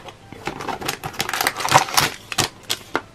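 Cardboard window of an advent calendar being opened for day three, a close series of crisp tearing, tapping and rustling sounds with no talking.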